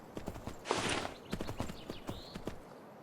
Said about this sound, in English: I heard the horse sounds at first